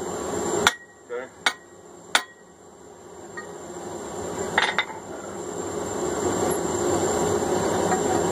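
Hot steel is struck on an anvil while forging a diagonal peen hammer: four sharp, ringing blows in the first two seconds, then a pause and a close double strike, over a rising background hum.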